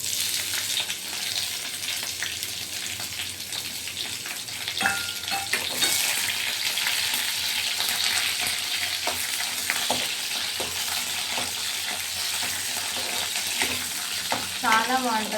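Onion and curry leaves frying in hot tempering oil with mustard seeds for peanut chutney, a steady close sizzle with stirring clinks and scrapes throughout, no talk.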